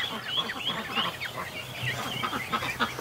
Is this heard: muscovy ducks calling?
yes